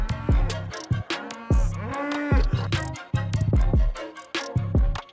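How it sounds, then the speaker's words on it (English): Cattle lowing beside an old Indian highway between Nagpur and Shirdi, several loud moos repeating close by in a steady sequence with short gaps, no talking. "But I'd take any day over dodging cattle."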